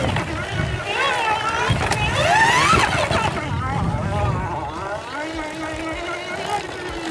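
An EM Epure electric trials motorbike rides on light throttle, giving a rising and falling motor whine under wind noise and rough ground, with no talk.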